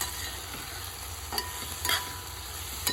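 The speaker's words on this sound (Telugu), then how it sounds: "ఉల్లి తరుగు బాగా వేగుతుంది." Chopped onions fry in a pan for ridge gourd curry, a soft sizzling hiss with a few brief stirring scrapes, close and fairly quiet.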